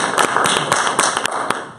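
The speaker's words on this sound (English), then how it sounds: "Please hold your applause." A few scattered claps ring out from an audience at a candidate forum, sharp and close, tapering off unevenly over a couple of seconds with no talk.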